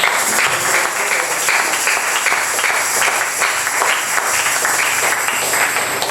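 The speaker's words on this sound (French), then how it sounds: "Applaudissez pour le Seigneur." Church congregation clapping together during a French-language service, a dense, steady wash of many hands close by that continues without a break and without voices on top.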